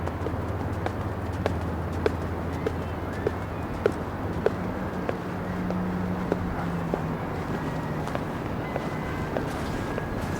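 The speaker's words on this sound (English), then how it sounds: "there's a black and white, quite stunning stallion running through the beach" A black and white stallion runs on a beach, its hooves thudding in a steady, regular clip-clop rhythm against a constant background rush, with a faint voice at times.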